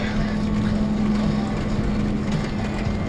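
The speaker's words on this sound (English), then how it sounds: "Looks like all the tractors are fired up." Several John Deere tractors running together at a lot, a steady low diesel drone with a constant hum, continuous and fairly close, with wind-like broadband noise over it.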